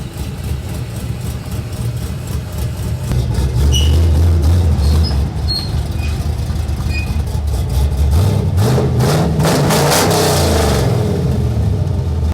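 A lowered pickup truck's engine rumbles through its exhaust pipes, holding a deep, loud idle with a few rising revs partway through and a throbbing low drone underneath.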